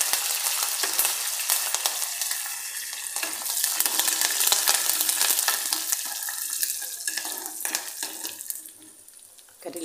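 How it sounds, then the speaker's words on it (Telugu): Curry leaves fry in hot oil for a Telugu fenugreek-seed dal tempering, giving a steady broadband sizzle with crackles, close and loud, easing off near the end; no talking. "ఇలా ఫ్రై అయిపోయిన తర్వాత ఇందులోకి కర్రీ లీవ్స్ యాడ్ చేసేసుకోండి."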